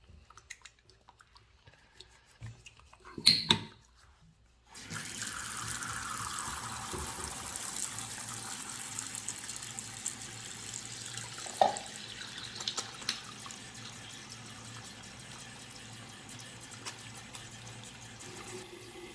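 A tap runs water over hands lathering a bar of hot process soap, a steady close hiss of flowing water that starts after a few quiet seconds of small handling clatter and continues throughout.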